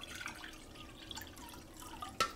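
Water trickles quietly from a tap into a saucepan, with a faint splashing drip and a small clink near the end.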